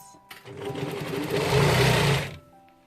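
A sewing machine runs a bust seam on a gathered-waist dress in one loud, close burst of fast, even stitching lasting about two seconds, with quiet before and after.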